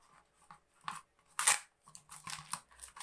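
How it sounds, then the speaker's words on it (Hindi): A knife cuts through a plastic bottle in a home kitchen, giving a run of close, crackly crunches and scrapes in short irregular bursts, with no talk. "बोतल का पहले तो आपने ये वाला पोर्शन जो है कट कर देना है।"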